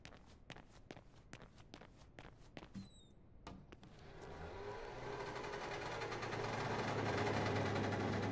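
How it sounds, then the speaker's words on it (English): A tiny car's engine starts in a video game after a run of footsteps, rising from a low hum into a steady, growing drone that fills the background and stays fairly quiet. "it's a tiny car."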